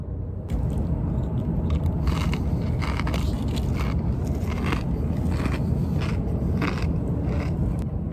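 Loud, close crunching and chewing of something crisp, continuous for several seconds with irregular crackly bursts.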